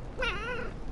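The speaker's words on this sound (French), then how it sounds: "Un petit chat qui est comme genre en train de me gosser" A single short cat meow, close and clear with a rising then falling pitch, over faint background noise.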